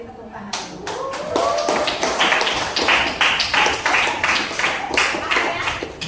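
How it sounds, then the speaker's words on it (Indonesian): Schoolchildren in a classroom clap their hands together in a quick, steady, patterned rhythm of sharp claps that carries on for several seconds. "beri tepuk tangan dulu"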